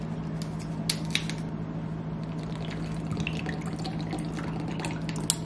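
Coffee being made at home in the morning: a soft, steady liquid trickle and drip runs through the whole stretch, with a low hum underneath and a few light clicks, and no one speaks.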